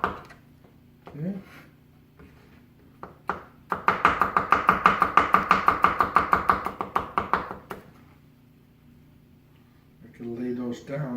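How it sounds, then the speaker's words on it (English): A kitchen knife slices vegetables thinly on a cutting board in a rapid, even run of about twenty crisp taps over a few seconds, with someone talking before and after the chopping. "I'm going to slice them. I'm going to try to get them as thin as I could."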